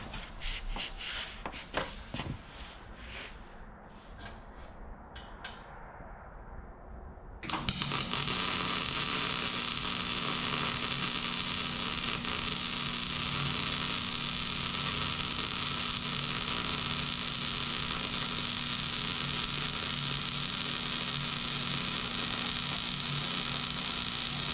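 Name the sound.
welding on a race car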